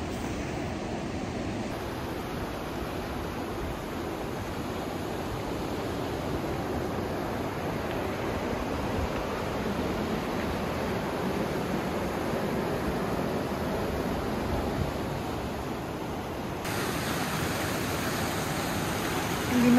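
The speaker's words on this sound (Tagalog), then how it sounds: "So this is Takakaw Falls guys." Takakaw Falls, a large waterfall in British Columbia, roars as a steady, broadband rushing of falling water, loud and continuous with no break, the torrent alone without talk.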